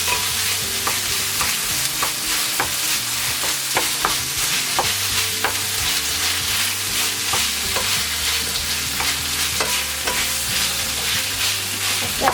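About three tablespoons of tomato paste sizzle and fry in a hot stir-fry pan with leftover chicken, a steady dense crackle broken by sharp clicks of stirring and scraping, close and continuous.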